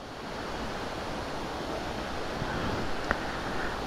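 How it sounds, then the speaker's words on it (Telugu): A waterfall roars during monsoon rain, a steady broadband wash of falling water that holds an even, loud level throughout, with one brief sharp tap near the end. "wow look at that water falls"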